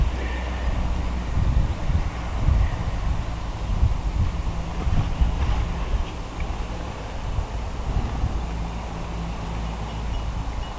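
Moderate breeze rushes and gusts steadily outdoors around a wooden boat being repainted, a low, soft, fluctuating wash with no voices.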